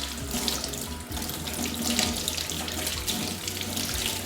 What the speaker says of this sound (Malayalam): അപ്പോൾ നമുക്ക് ഇതൊന്ന് നന്നായി കഴുകാം